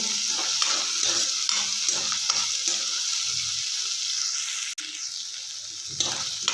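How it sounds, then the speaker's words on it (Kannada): Tomatoes sizzle in a hot pan while being cooked for ridge gourd palya, a steady frying hiss broken by a few stirring scrapes and one sharp knock against the pan. "ಸ್ವಲ್ಪ ಟೊಮೊಟೊ ಚೆನ್ನಾಗಿ ಬೇಯಲಿ"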